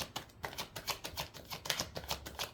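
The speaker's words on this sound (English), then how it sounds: "as you listen to me shuffle, and as the cards are coming out" Rapid papery riffling and soft clicking, a close, quiet run of card shuffling with a fast, uneven rhythm and no voices.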